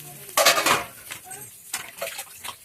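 Fish heads are dropped into a cooking pot and stirred, making a brief burst of wet clattering followed by a few lighter scrapes and knocks, close by.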